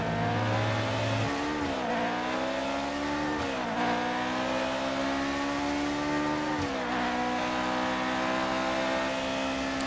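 A McLaren M23-D with a Ford engine racing in the F1 2019 game, its high engine note running close and loud, falling with each gear change and climbing again in repeated surges.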